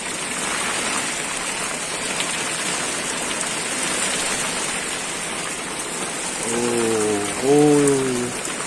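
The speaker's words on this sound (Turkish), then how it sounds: "Yağmurun kümes üstüne vuruş sesi." Heavy rain drums steadily on a pigeon coop roof in a dense, continuous hiss; toward the end a voice briefly speaks over it.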